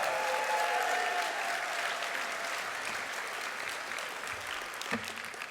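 A banquet crowd at a sports hall of fame ceremony applauds inductees with sustained clapping that begins full and slowly tapers, with a faint voice briefly near the end.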